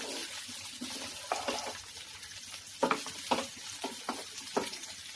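Onion cut into separated layers sizzles steadily in hot oil while cooking crispy chilli chicken, a continuous close hiss broken by repeated brief louder bursts, like stirring or bubbling, with no voices.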